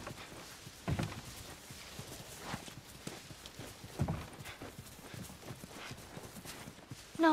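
Slow, steady clip-clop of horse hooves on a hard surface in the video game The Last of Us, fairly quiet and close, with a few sharper knocks between steps.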